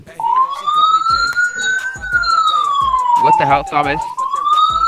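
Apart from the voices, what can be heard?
police car siren in the video game Ravage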